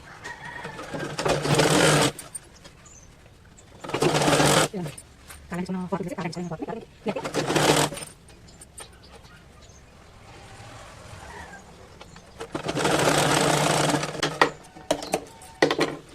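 A domestic sewing machine stitches cloth for a gents' shoulderless shirt in a tailoring setting, running in several bursts of a few seconds each with quieter gaps, while a person talks between and over the runs.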